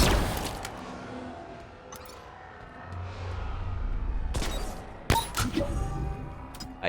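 Gunfire in the video game Halo Infinite: a few sharp, loud shots crack in the second half over low game ambience.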